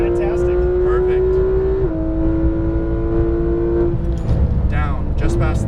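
A Porsche 911 GT3 RS on a race track holds a steady engine drone that steps up in pitch under throttle, heard from inside the car with an instructor talking over it.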